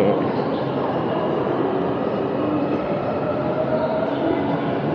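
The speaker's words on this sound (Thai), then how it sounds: "นี่เป็นสถานีเคเซ ที่เทอร์มินอลหนึ่ง" Steady, loud rumble of a train in the Keisei railway station at Narita Airport Terminal 1, a continuous low roar of wheels and motors with indistinct voices underneath.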